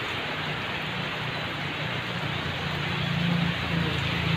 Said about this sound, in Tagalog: Yan na, gusto ko yung ulan.